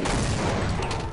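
A single loud, broad grenade blast in Half-Life bursts up close and rumbles briefly, with no voices over it.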